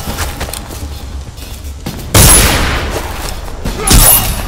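Gunfire volley in the stealth video game Dishonored, with two loud bursts of several shots together, the second a little quieter, over a low rumbling game backdrop.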